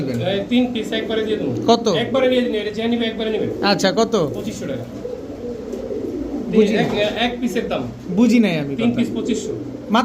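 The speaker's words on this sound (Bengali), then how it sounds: "সাহারানপুরি জিরা সাহারানপুরি তিন পিস কবুতর" Saharanpuri pigeons coo in low, throaty bursts close by while someone talks over them.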